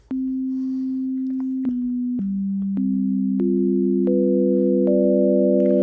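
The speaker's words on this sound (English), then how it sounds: "So we start off with a sine wave." A pure sine tone from a Hydrasynth Explorer synthesizer holds steady, then steps down and up through a series of sustained pitches, clean and loud with no voices.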